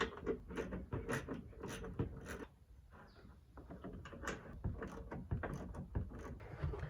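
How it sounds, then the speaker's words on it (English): Two 13mm bolts being removed from a BMW E36 M3, heard as close, irregular ratcheting clicks and metallic tool clatter in quick bursts, with a brief lull midway. "It's as easy as just popping off those two bolts"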